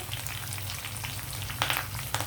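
Dried red chillies and curry leaves sizzling in hot oil while tamarind-leaf pulihora is prepared, a steady close crackle with a couple of brighter popping spurts toward the end.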